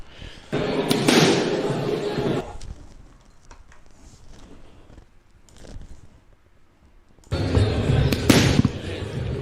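Punches hitting boxing pads come in two dense bursts of quick, sharp, loud slaps and thuds, separated by a quieter gap with only a faint knock or two.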